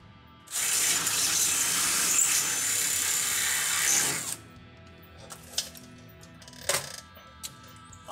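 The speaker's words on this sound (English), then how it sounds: "Then we'll be ready to drill some holes." A power drill bores a hole through rat rod metal, giving a loud, steady whine for several seconds before stopping, followed by scattered clinks and taps of tools and parts in a quiet workshop.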